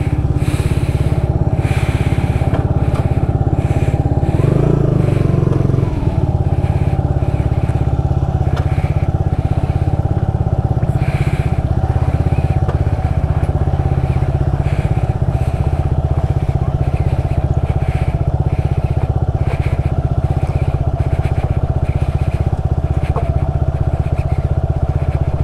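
A Suzuki Gixxer SF 250 motorcycle cruises slowly on a wet road, its engine droning steadily and close throughout with wind rumble and a brief louder surge early on.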